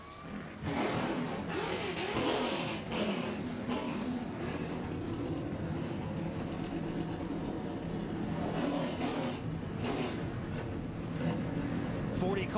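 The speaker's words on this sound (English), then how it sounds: "Cars fired, ready to go at Daytona" Race car engines idling and revving together on the grid at Daytona before the Lucas Oil 200 in 2017, a dense continuous roar with rising surges, fairly loud over distant crowd noise.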